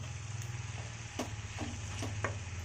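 Vegetable chowmein tossed and stirred in a hot pan, a steady low sizzle with a few sharp scraping clicks from the spatula, fairly quiet.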